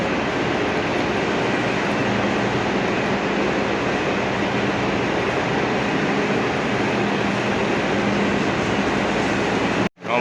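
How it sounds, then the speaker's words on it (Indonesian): High-speed train from Madinah to Makkah heard from inside the carriage, a loud, steady rumbling roar with faint rail hum holding for about ten seconds before cutting off abruptly, with no talk. "ini kereta cepatnya ya."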